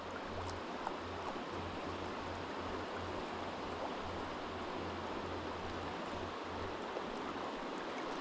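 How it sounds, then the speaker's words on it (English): A trout creek, slightly swollen and off-colour after overnight rain, rushes past in a steady broadband wash of current, constant and fairly faint with a low hum underneath. "Still got quite a bit of current right out here in front of me"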